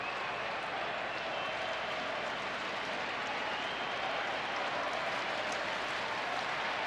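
Steady applause and crowd noise at a night baseball game, Kansas City Royals at the Texas Rangers, a continuous even wash of clapping and murmur from a large stadium crowd.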